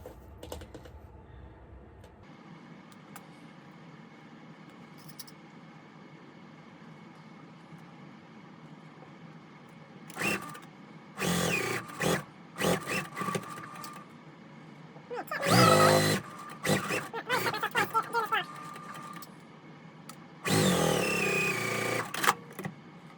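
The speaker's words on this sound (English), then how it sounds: "So now we'll sew this part on." A sewing machine stitches a quilt block for a pressed-flowers quilt, running in several short close bursts of a few seconds each between quiet pauses, with the longest runs near the middle and end.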